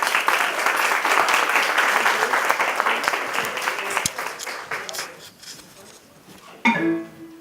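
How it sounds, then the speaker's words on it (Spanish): Loud audience applause during a Renaissance music seminar session, sustained clapping that gradually thins and fades, followed by a brief closing sound near the end. "un aplauso para ellos porque se lo merecen"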